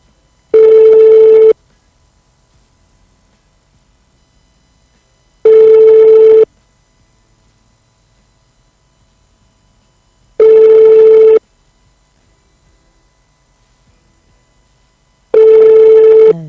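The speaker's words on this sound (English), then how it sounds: "Hopefully Azuka answers his phone" Outgoing phone call ringing back in four evenly spaced tone bursts, each about a second long with roughly four seconds of silence between, clear and steady with no talk.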